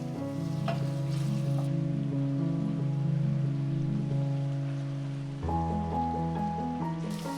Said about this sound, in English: Fry the garlic and shallots for about 2 to 3 minutes